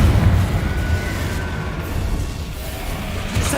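A Confringo fire spell blasts in the video game Hogwarts Legacy, giving a loud, sustained rumbling explosion with a heavy low roar that holds steady for a few seconds, with no voices.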